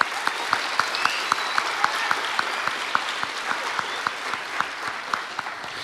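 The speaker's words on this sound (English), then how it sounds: "Let's give her a huge round of applause." Audience applause at a junior high school spring band concert, a loud sustained wash of clapping with individual claps standing out at a steady rhythm, lasting the whole stretch with a few voices underneath.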